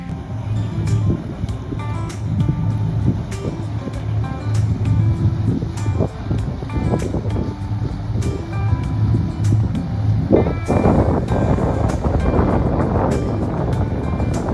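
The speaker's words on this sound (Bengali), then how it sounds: "একটা স্পিড বোট অনেক দূর থেকে স্পিডে এসে এখান থেকে স্লো করে আস্তে আস্তে পার্কিং লটে যায়" A speedboat eases off its speed as it approaches the shore at Wantagh, New York, its engine a steady, fairly close drone mixed with lapping water and wind for the whole stretch.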